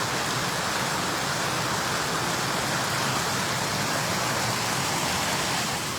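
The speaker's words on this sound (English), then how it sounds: "This is one of Texas's. It's not big, but hey, it's still a waterfall" Modest waterfall outdoors in Pflugerville, Texas: constant hissing splash of tumbling water, near and fairly loud, unbroken for the whole stretch with no talking.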